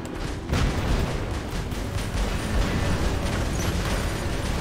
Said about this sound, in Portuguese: Odeio esses tiros curto.